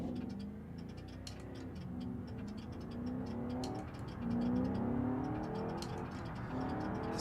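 A BMW M5 in the BeamNG driving game revs its engine as it accelerates. The engine note sweeps up and down steadily and swells louder toward the middle, with no talk over it.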